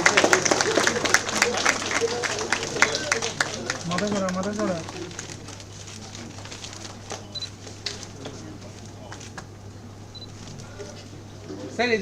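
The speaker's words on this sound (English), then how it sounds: "Can we expect a great round of applause" Audience applause at a national seminar's lamp lighting, a dense burst of many hands clapping in the opening seconds that thins into scattered claps and murmuring crowd noise, with talk over it.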